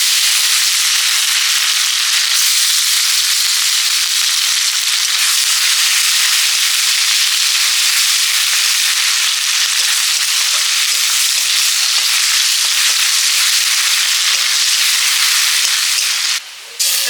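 Onions sizzle steadily and loudly in hot oil in a pan with dried red chillies, bay leaf and browned sugar, a dense continuous frying hiss that lasts throughout.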